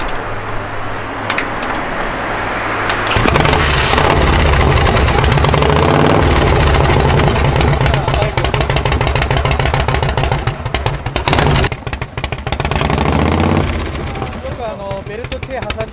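A vintage Harley-Davidson Shovelhead chopper engine runs loud and close, a throbbing, clattering idle that swells as the clutch is engaged, with people talking over it.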